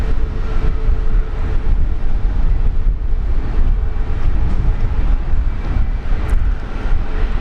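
A Jetstar airliner departs Brisbane Airport for Auckland, a steady broadband jet roar at moderate distance that holds level throughout with no break.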